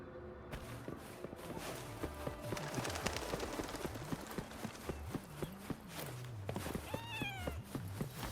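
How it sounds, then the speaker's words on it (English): In the Wuthering Waves video game, a cat lets out a short, rising meow after being stepped on, heard over steady footsteps and busy game ambience. "Poor kitty. I didn't mean to walk on you."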